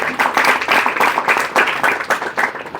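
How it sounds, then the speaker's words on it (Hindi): A small audience claps in welcome at a gathering, uneven bursts of hand claps with a pulsing rhythm, fairly close and loud, no voices over it. "तो हम सभी स्वागत करते हैं जोरदार तालियों के साथ"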